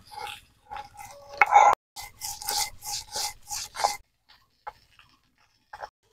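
Black mustard seeds crushed by hand for a spice paste in a home kitchen, a series of short rhythmic grinding rubs, close and fairly clear, then tapering into a few faint scrapes.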